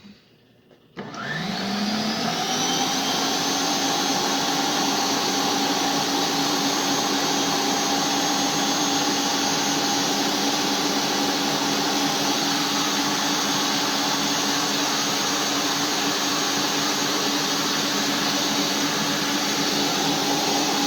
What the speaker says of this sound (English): I'm going to let this continue whipping for another few minutes until the bowl is cool to the touch